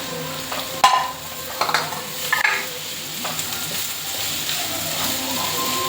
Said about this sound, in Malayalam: നന്നായിട്ടൊന്ന് ഇളക്കി ചെറിയ ഉള്ളിയും പച്ചമുളകും വെളുത്തുള്ളിയൊക്കെ ആയിട്ട് ഒന്ന് നന്നായിട്ട് പിടിക്കട്ടെ.